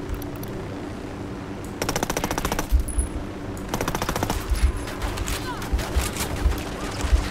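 Automatic gunfire in the video game Ghost Recon Wildlands rattles out in two long, rapid bursts, followed by scattered shots over a low background din.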